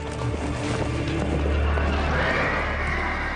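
A horse neighs loudly over a steady low rumble, with a faint clip-clop of hooves in a military history setting.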